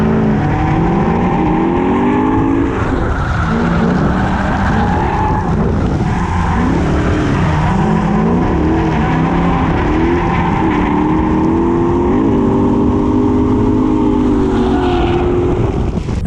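A car drifting with its rear tires smoking and wearing down fast, giving a loud, continuous engine roar with screeching tire skid that rises and falls for the whole stretch, close up and without talk.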